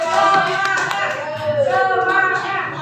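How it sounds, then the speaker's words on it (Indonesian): Hands clapping at a school gathering, with scattered applause under a speaking voice and some background chatter. "Ya, beri tepuk tangannya."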